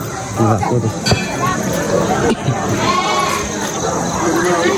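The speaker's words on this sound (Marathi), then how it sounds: "आता आले आम्ही बालूमामाची मेंढरा बघायला" Sheep of Balumama's flock bleat repeatedly at close range amid a crowd, with people talking and background chatter over the animals' calls.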